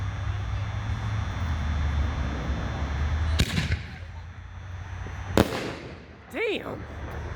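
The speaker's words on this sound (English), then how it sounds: "we got Bang Bang by Boom Wow, double break shell, 6-inch" A Boom Wow 6-inch double break shell named Bang Bang bursts twice outdoors, two loud sharp booms a couple of seconds apart over a rumbling background, followed by a short whistling rise and voices.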